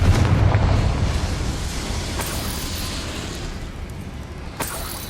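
A Confringo fire spell bursts in the Hogwarts Legacy video game, a deep booming explosion that rumbles and slowly fades, followed by a few sharper crackles and a late pop.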